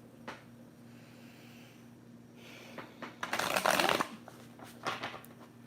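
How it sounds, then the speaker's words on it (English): A deck of cards riffled once in a loud, dense burst, preceded and followed by lighter shuffling and handling sounds over a faint background hum. "I'm going to shuffle it one more time."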